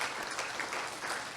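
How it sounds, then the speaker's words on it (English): Applause at a World Day Against Trafficking in Persons event in Palau, a brief, steady wash of crowd clapping heard from a distance with no talk over it. "just give everybody a round of applause"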